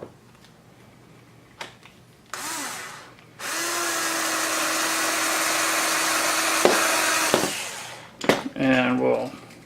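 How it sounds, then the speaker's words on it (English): A power drill boring a pilot hole with a 1/16 inch bit during a box quad antenna build, with a short whine-up and then a sustained steady motor drone for several seconds, followed by brief clicks and handling noises. "16th inch bit. Pilot hole."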